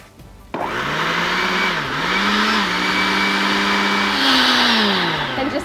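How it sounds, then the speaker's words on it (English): A blender whirs garlic and salt into a dressing, starting abruptly and running loud and steady, its motor pitch dipping briefly and then rising near the end. "we're just gonna blend it up"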